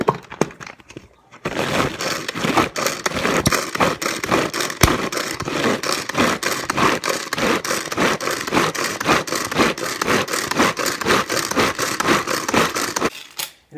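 A hand-cranked chopper turning fresh salsa into a finer mix, giving a continuous close rasping and scraping churn with a rapid rhythmic pulse from the cranking, which runs on for more than ten seconds after a short quiet start.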